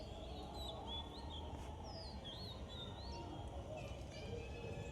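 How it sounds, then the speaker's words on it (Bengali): Birds call around a peepal tree at dusk, faint chirps and whistles rising over a low hum of background noise, distant and scattered through the moment. "চারিদিকে পাখিদের আওয়াজ পাচ্ছ হবে।"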